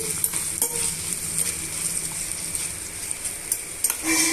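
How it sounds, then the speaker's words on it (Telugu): Ivy gourd pieces being stirred and fried in a pan, with a soft continuous sizzle, occasional light utensil clicks and scraping strokes, and no voices. "ఇవన్నీ బాగా మిక్స్ చేసుకొని వేయించేసుకోవాలండి"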